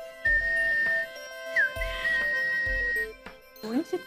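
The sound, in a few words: parrot whistle toy being blown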